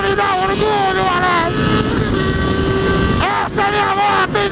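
A Honda Hornet motorcycle engine revs loudly and continuously, its pitch rising and falling in repeated sweeps and swelling again toward the end.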